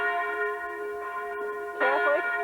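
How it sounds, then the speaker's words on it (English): Church bells of a Catholic parish church in Germany toll right alongside, sustained ringing tones layered with a brighter new strike near the end, with no talking. "This is right in the side of the church here, as the bells are tolling."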